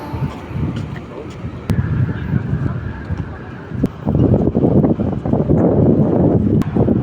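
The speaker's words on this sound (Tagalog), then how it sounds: "malamig na simoy ng hangin" A cool breeze blows outdoors among trees, as a steady, rushing gust of wind buffets the microphone and builds louder toward the end, with a voice talking under it.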